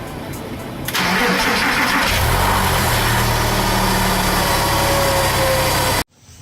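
A Porsche 996 engine cranks briefly and catches, settling into a loud, steady close idle for several seconds before cutting off abruptly, just after an alternator replacement.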